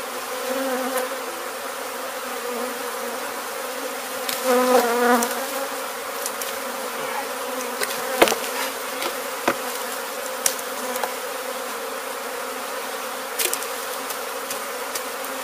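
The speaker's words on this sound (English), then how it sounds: "A lot of bees, yeah." A swarm of honey bees fills the air with a steady, fairly loud buzz during a removal in Weslaco, Texas, with occasional soft knocks and no talking.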